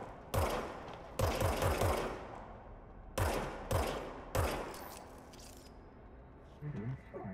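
Gunfire from the service weapon in the video game Control: several loud, sharp bursts of rapid shots in quick succession, separated by short pauses, with a trailing mechanical clatter near the end.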